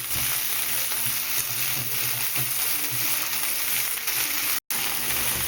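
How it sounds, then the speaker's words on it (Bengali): Winter vegetables being mixed as they fry in a pan with fish, a steady close sizzle with soft scraping of a spoon throughout and no talking. "সব সবজিগুলোকে একসাথে মেশাই।"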